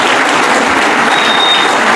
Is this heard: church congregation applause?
yes